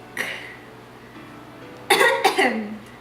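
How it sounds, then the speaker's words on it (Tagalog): A woman coughs during a teen makeup tutorial: a faint throat sound, then a close burst of two or three harsh coughs in quick succession, with speech around it. "Inuubo ako."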